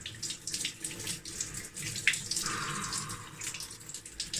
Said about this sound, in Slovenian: In zdaj se lahko tuširamo z mrzlo vodo